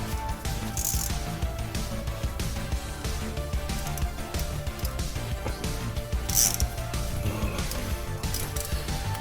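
Wrench work on the overflow tube of an Audi RS3 8V2's DSG7 DQ500 gearbox, an 8 mm fitting: steady close metallic ratcheting and clicking, dense and continuous with a few sharper clanks, no talk.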